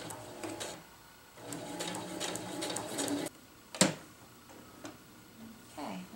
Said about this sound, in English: So I'll drop my foot and then I'll just follow this line with my little guide here.